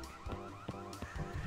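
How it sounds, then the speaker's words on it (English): Store alarms blare in the Christmas Shopper Simulator video game, a wailing, warbling electronic tone that repeats in pulses, steady and fairly quiet with no talk over it. "Let's set off all the alarms and get everyone to chase me."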